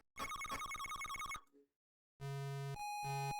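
A synthesized telephone ring from the 1995 Game Gear game Chicago Syndicate, a rapid trilling electronic burst, a brief pause, then a sustained chiptune ringing tone, bright and clear with no voices.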